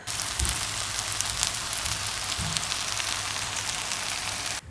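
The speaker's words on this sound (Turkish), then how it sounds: "Çok güzel bir cızırdama sesi geliyor." Close, continuous sizzling of fish frying in a pan, a dense crackling hiss with faint low thumps underneath.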